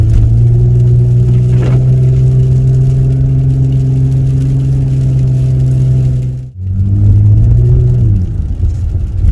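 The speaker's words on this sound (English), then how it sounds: "I drive my car. Driving it right now. Out here in the sleet and rain." Steady in-cabin engine drone of a car being driven through sleet and rain, a loud constant hum that briefly drops out and then resumes at a slightly different pitch.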